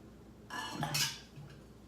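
Metal spoon scraping around inside a chili pepper to loosen the seeds and membrane: one short, close scratchy scrape lasting about a second in a quiet kitchen.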